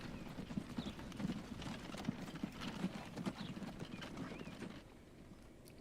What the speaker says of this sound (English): little horse and buggy.